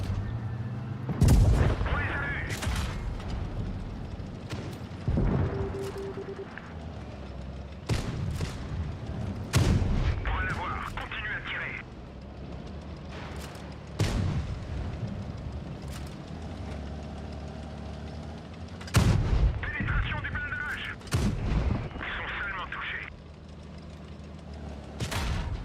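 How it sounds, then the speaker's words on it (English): Repeated heavy tank cannon blasts from World of Tanks Blitz gameplay, about eight sharp booming shots spread irregularly over the stretch, some near and loud, with engine rumble and scattered in-game effects underneath. "He's actually firing a gun at me."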